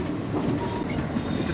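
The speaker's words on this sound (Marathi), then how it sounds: "Goods train." A goods train rolling past on the Parbhani–Nanded line near a route junction, a steady loud rumble of wagons with clickety-clack wheel rhythm throughout and no voices.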